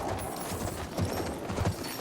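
Horse hooves galloping in the Battlefield 1 video game: a steady, fast clip-clop rhythm of hoofbeats, fairly loud and close, heard alone with no voices over it.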